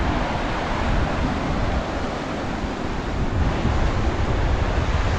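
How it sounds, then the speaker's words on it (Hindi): Shimshal River rushing through a cold mountain valley on a trek, glacier meltwater feeding it; a loud, steady broadband roar of churning water mixed with gusty wind, continuous and close with no voices. "शमशाल रिवर देखें कैसे आबोताब से आ रहा है"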